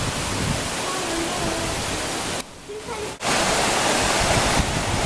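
Waterfalls cascading into pools in a rocky gorge at Watkins Glen State Park give a loud, steady broadband rush, briefly muffled for under a second before the full roar returns.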